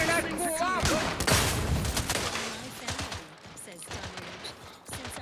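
Weapon fire in the video game The Outer Worlds 2, dense rapid bursts of shots mixed with shouting combat voices and whistling effects, loud and continuous before thinning out.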